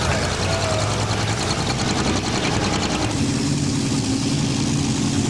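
Pro stock pulling tractor engine at a tractor pull event, a loud, sustained roaring drone that shifts partway through, with crowd and arena noise behind it.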